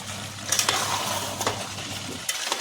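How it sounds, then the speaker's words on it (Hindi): Chicken stew with green coriander stirred in a pan, a low simmering sizzle broken by a few quick spoon scrapes and knocks against the pan. "अब इसको मिक्स कर देंगे अच्छे से"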